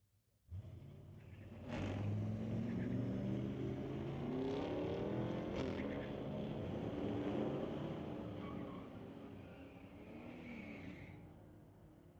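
A 2018 Camaro and a pickup truck launch in a street-legal drag race at a raceway, a sudden loud engine roar rising and holding as they accelerate away, then slowly fading into the distance.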